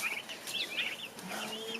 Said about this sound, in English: That was a turkey.